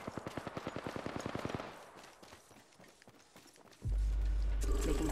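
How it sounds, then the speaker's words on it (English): Rapid automatic gunfire rings out in the video game Apex Legends, a fast rhythmic burst that fades into scattered distant shots, then gives way to a steady loud rumble at the end. "Getting shot at."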